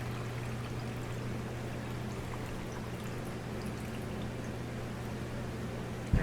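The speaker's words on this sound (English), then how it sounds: "Then we're going to take our brine mix and we're going to pour over there." Spicy pickling brine is poured over eggs in a jar, a soft, continuous liquid stream at low level with a steady hum in the background.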